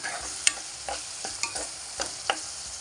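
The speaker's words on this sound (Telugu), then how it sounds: "ముందుగా కట్ చేసి పెట్టుకున్న వంకాయలు వేసుకుందాం." Brinjal pieces fry in a pan, giving a soft steady sizzle broken by a few sharp scraping stirs of a utensil, close and fairly quiet with no talking.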